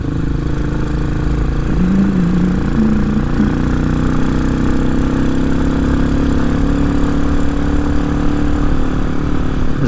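A Hawk 250 motorcycle with a Loncin RE250 engine swapped to a 6-speed gearbox rides on a cold road, its engine droning loud and steady with a smooth, even note and a brief shift in pitch.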